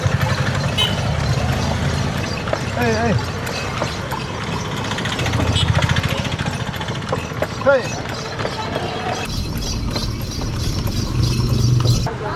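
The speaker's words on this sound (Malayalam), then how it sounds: "ഇതാണ് നമ്മൾ റൈഡ് പോയ കുതിര പാപ്പാത്തി." A horse's hooves clip-clop on a hard road on a street in Palani amid busy outdoor noise, with people talking and some mechanical rattling in the background.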